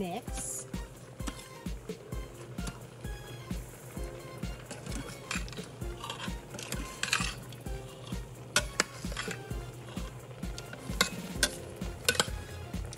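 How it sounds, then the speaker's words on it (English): A spoon stirs a beef and Guinness stew with potatoes, carrots and apple inside an Instant Pot, making a rhythmic scraping and clatter of chunks under a low steady hum, and a voice talks over it now and then. "I'm gonna give this a really good mix"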